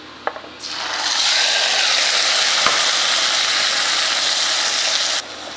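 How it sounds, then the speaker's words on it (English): Tomatoes hit a hot pan and sizzle loudly and steadily, with stirring scrapes, while cooking in a curry-leaf and bay-leaf base for a moong dal bonda soup. "Give a nice stir, and then now we are going to add the tomatoes."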